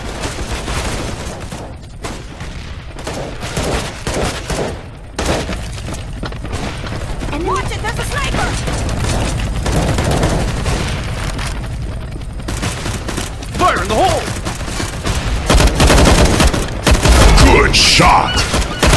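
Constant crackling gunfire from the game CS:GO x CSO2 with rapid bursts, single cracks and heavy thuds, loud and close throughout the stretch, with voices calling out under it.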